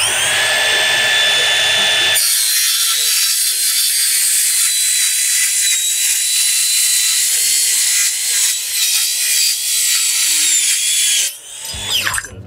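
A power tool cuts through steel studs with a loud, steady high-pitched metallic whine and grind that runs for about ten seconds close by, then winds down.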